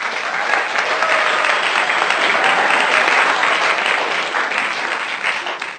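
A church congregation applauding steadily, a dense, even wash of clapping hands that holds for several seconds and eases slightly at the end.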